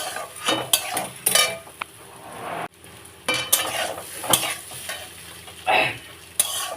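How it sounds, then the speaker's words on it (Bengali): Stir-frying shrimp with taro (bhot kochu) in oil: repeated sharp scrapes and clatters of a utensil over a continuous sizzle, in uneven bursts with short pauses. "দেখো, আর একটু ভাজবো"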